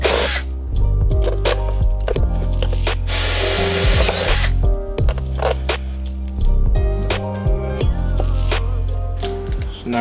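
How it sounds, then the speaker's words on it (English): A power tool tightening relays onto an ECU cover during a Chevrolet Silverado electric fan conversion, heard as a loud burst of driving whir in the middle, with clicks and shorter tool bursts close by, and a cough at times. "So now we are tightening these relays down."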